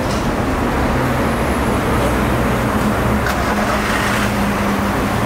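Volkswagen Gol car moving along a busy street in traffic, a loud steady broadband engine and road rumble with other vehicles around, no talk.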